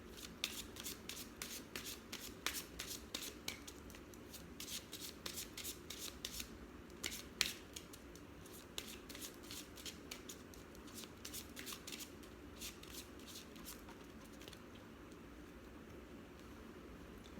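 A deck of tarot cards being shuffled over a long stretch, with quiet, repeated riffling and rubbing bursts close to the mic and no talking.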